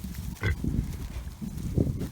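Pigs being driven across a grassy field, with low grunts and snuffling bursts coming close by and a few shuffling movements in between.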